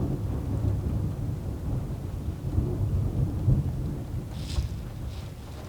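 Rolling thunder rumbles low and continuously through steady rain, loud and close, with no voices.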